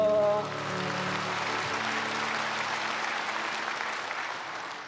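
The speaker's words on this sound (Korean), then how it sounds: "영광의 박수 올려드립니다" A large congregation claps at a Korean church's Christmas Eve Wednesday prayer service, the applause rising as a hymn's final chord fades and then continuing as a dense, even wash of clapping that tapers softly at the close.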